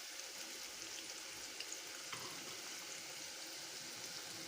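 Chicken bites fry in hot oil, giving a steady, soft, broadband sizzle with faint crackles and no talking.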